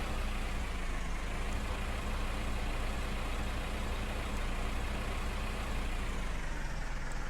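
Tractor engine in Farming Simulator 15, a steady low rumbling drone that holds at an even level throughout, with no voices over it.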